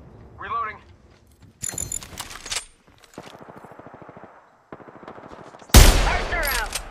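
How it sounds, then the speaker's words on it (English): Gunfire in a team shooter video game. Several separate bursts of rapid automatic fire are broken by short pauses, and a sharp, loud volley lands near the end. "Shots fired and they're hitting me"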